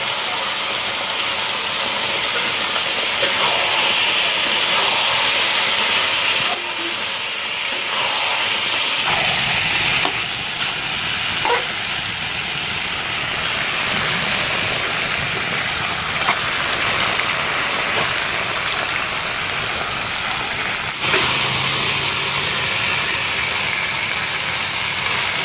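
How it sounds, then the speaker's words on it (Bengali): Potatoes and meat sauté together in a hot pan with a continuous, fairly loud hiss and sizzle that shifts slightly in tone partway through, with no speech. "এবার আলুটা দিয়ে ভালো করে কষিয়ে নেব।"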